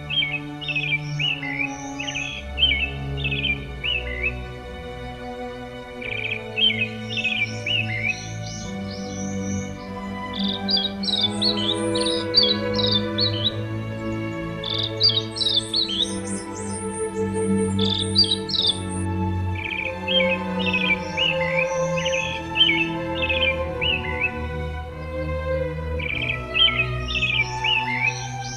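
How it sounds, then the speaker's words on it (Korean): Birds chirp and sing in quick repeated trills and bright tweets over a sustained, tonal musical backdrop, with a faint insect-like buzz running steadily underneath. "새소리 막 들리죠."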